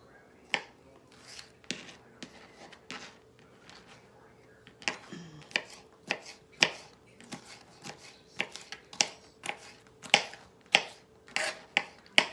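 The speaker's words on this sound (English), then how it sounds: "cut the rest of this green pepper up, and here's one other little piece" A knife chops a green pepper on a cutting board in a home kitchen, giving sharp, quiet thuds. The strikes come irregularly at first, then settle into a quicker, steadier rhythm of close taps.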